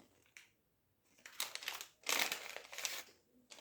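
A plastic packet from a headphone box crinkles close by in several bursts of rustling, separated by short quiet gaps.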